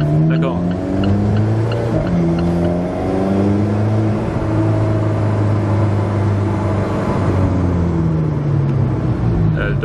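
An Alfa Romeo 4C engine revs up and down on the road from inside the cabin, loud rising and falling tones that sweep through gear changes, with people talking over it.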